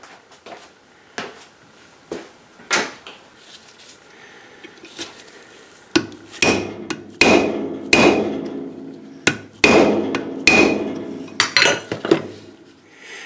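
Hammering at a stuck taper pin on an old Delta/Milwaukee bandsaw under repair, with about a dozen sharp metallic strikes, a few light taps and then harder ringing blows in uneven rhythm, close by and without talk.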